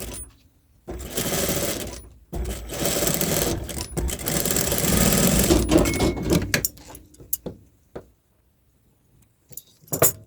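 A sewing machine stitches a bra strap seam in two long, loud runs of rapid mechanical whirring separated by a brief pause, then gives way to scattered clicks and handling noises.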